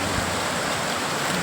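Water pours over a check dam in hilly country, making a steady, broad rushing wash that holds at an even level through the short stretch.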